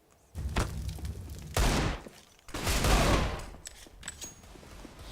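Desert Eagle pistol fire in CS:GO during a competitive esports tournament final: several loud, close gunshot bursts with rumbling tails arrive in quick irregular succession, followed by fainter scattered in-game clatter, with no voices.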